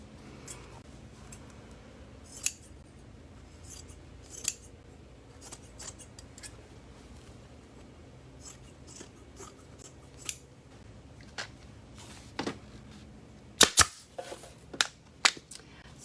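Scissors snip through excess upholstery fabric on a round seat being recovered, giving a series of short, crisp cuts spaced irregularly, with a quick cluster near the end, close and fairly quiet over a low room hum.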